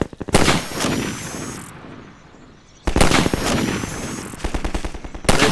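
Gunfire in the video game Garry's Mod as a group opens fire on another team, loud rapid bursts and sharp shots with echoing tails, a pause, then more dense volleys.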